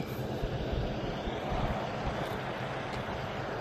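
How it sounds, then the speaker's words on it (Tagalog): A Kelsey truck with no APU idles with its engine running, a steady broadband rumble that holds at constant level throughout, close by and alone with no voices. "So itong mga Kelsey truck ay walang APU, kaya anda yung makina nito."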